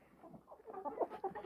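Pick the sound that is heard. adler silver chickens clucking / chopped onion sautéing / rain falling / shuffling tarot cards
adler silver chickens clucking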